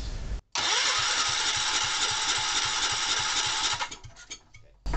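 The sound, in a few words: Kohler K241S small engine starting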